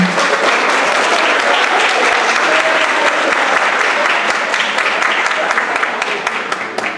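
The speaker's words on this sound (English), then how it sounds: "So give yourselves a round of applause." Loud, sustained audience applause fills a room at a Juneteenth celebration, dense steady clapping from a large crowd that holds throughout.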